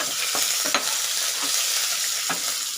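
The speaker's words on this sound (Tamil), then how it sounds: "இப்போ இது கொஞ்சம் ஃப்ரை ஆகட்டுங்க." Dried red chillies, green chilli and curry leaves fry in a hot pan with a steady, close crackling sizzle, broken by a few sharp scrapes of stirring.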